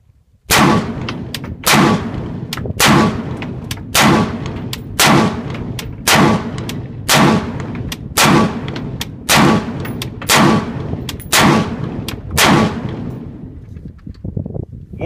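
Rifle-length carbine gas system AR rifle firing Federal XM-193 55-grain ammunition with no muzzle device, about a dozen sharp, loud single shots spaced roughly a second apart.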